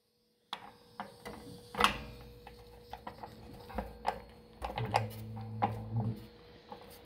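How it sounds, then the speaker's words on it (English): Ratcheting socket wrench tightening a water heater anode rod, giving irregular clicks and metallic ticks up close, with brief scraping and a low hum in the background. "And then tighten it with the socket."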